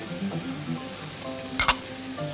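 Noodles and shrimp stir-fried in a pan with soy sauce and sweet chili sauce, a close steady sizzle with tossing and scraping, and a sharp clatter of a utensil against the pan partway through.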